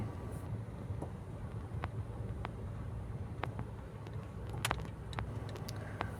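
Cabin road noise from a car driving on a Dubai delivery run: a faint, steady low rumble with occasional light ticks and knocks, and no talking.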